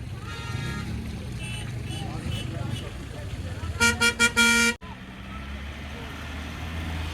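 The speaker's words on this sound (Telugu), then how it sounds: "ఈ బండి చూడండి ఎక్కలేకపోతుంది" A vehicle grinds up a muddy, snow-covered mountain road between Kargil and Srinagar, its engine droning low and steady while a horn toots several times near the middle and voices talk over the scene.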